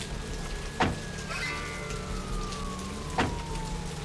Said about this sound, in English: Those sirens ain't for me, are they?